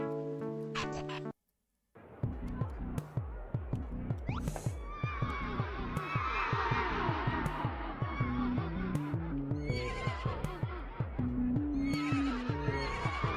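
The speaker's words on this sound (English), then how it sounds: "Hello, skeleton horse." A skeleton horse neighing in the video game Final Profit: A Shop RPG, repeated whinnies and honking calls over a steady stream of clip-clop hoofbeats, loud and close after a brief silent gap near the start.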